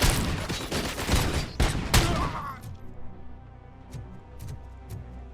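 Enemy rifle fire in RoboCop Rogue City: a loud flurry of rapid shots and impacts fills the first two seconds, then trails off into quieter scattered pops and ambient noise.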